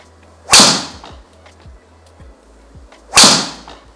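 Two sharp, loud impacts of a Ping G430 Max 10K golf driver striking a ball, about two and a half seconds apart, each with a bright crack and quick ringing decay.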